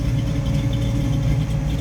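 A 1969 Chevrolet Camaro's stroked 350 V8 idles with a deep, steady rumble and a slight lopey throb, heard close and loud without any talking.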